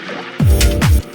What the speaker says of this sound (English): I have also this reverse vocal here that I'm using.